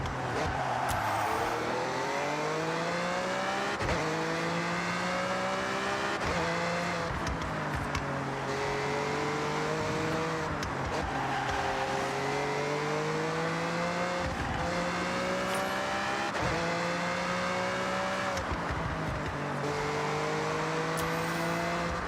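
A Lamborghini drives hard in the Forza Horizon 6 video game, its engine roaring loudly as it climbs through the revs and shifts gears again and again, with brief tire noise along the way.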